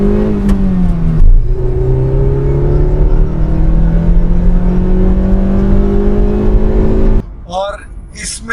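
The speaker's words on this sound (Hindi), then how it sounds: "जैसे ही आप इसके एक्सेलरेशन पे पैर रखोगे ये इंस्टेंट पावर प्रोवाइड करता है" A 2016 Honda City 1.5 i-VTEC petrol sedan with 50,000 km on it accelerates hard through the gears, its engine note rising steadily and loud from inside the cabin, then dropping away at the end as a voice briefly speaks.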